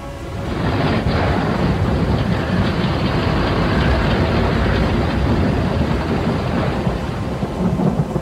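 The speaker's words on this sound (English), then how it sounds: "A terrible storm had arisen, causing the sea captains to sail their ships beyond the outer banks and out to sea." Continuous thunderstorm with heavy rain hiss and deep rolling thunder, loud and steady throughout, building after a quiet first second, with no voices.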